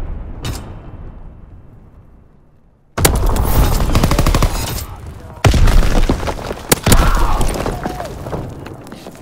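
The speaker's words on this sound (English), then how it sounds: "Strafing run inbound." Call of Duty: WWII strafing run: after a single early boom and a fading rumble, loud bursts of rapid machine-gun fire erupt, mixed with heavy impacts and explosions in dense, chaotic gameplay audio.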